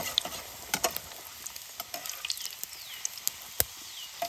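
Puris deep-frying in hot oil at an outdoor campsite sizzle with a steady, close hiss, broken by sharp pops and spatters throughout.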